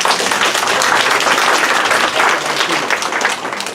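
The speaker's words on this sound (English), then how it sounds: "Give the man a round of applause," An audience applauding at a charity fundraiser lunch: dense, even clapping from a crowd, loud and sustained for a few seconds, then easing slightly at the end.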